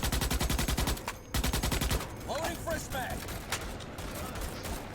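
Automatic gunfire in the sci-fi shooter Starship Troopers: Extermination, opening with rapid, even bursts that break briefly and resume, then a dense wash of battle noise with someone talking over it.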